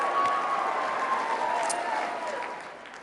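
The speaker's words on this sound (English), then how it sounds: "Give him a round of applause." Loud, sustained applause and cheering from a large political conference crowd fills the hall for about three seconds, fading slightly toward the end.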